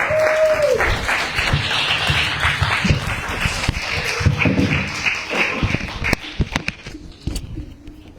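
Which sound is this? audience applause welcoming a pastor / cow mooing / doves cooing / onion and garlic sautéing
audience applause welcoming a pastor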